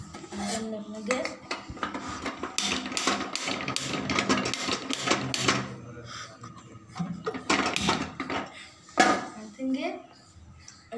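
Eggs with salt whisked briskly in a bowl for an omelette, a rapid rhythmic clatter of utensil against the bowl in bursts, with pauses between them.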